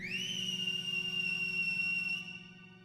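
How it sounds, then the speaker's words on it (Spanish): A single steady whistle tone from over a hill holds for about two seconds, then fades out, short, thin, muffled and distant. "se oyó un corto y apagado silbido a buena distancia"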